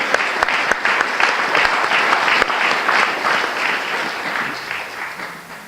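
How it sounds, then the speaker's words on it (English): Crowd at a California ecosystems restoration conference gives a round of applause: loud, dense clapping from many people, steady at first and gradually thinning toward the end. "So if you guys could give a quick round of applause to them"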